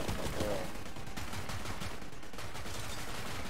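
Rapid gunfire from a weapon in the video game Borderlands 3, a steady rattling burst of shots that continues throughout, fairly quiet in the mix.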